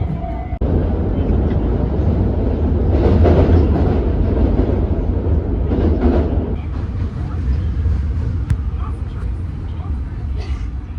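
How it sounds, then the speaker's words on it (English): A train rumbles and clatters past at a busy Osaka station, loud and close for several seconds, with a crowd talking underneath. "I need to actually be quick because that's my train."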